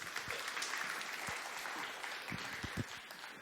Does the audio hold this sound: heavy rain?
no